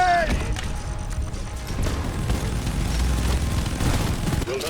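A grenade blast from the video game Deep Rock Galactic booms loudly into dense, sustained combat noise and rattling gunfire, close and continuous with no pause.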